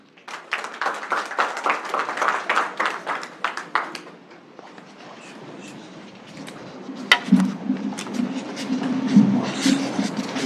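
Audience applause at the opening ceremony of a literature festival in Dakar: a few seconds of dense clapping, then fading to scattered claps over low room rumble.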